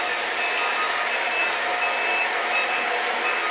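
A low-water alarm on a semi-automatic steam boiler beeps in short, regular pulses, faint and steady beneath a loud, constant hiss of boiler noise.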